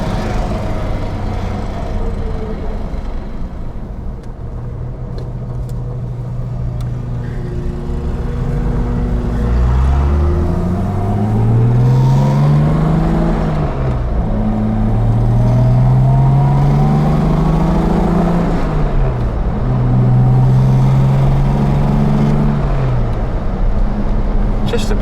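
A 1964 Jaguar E-Type Series I Coupe is driven, its engine note rising and falling through gear changes with sweeping pitch shifts, loud and close throughout, with someone talking over it at times.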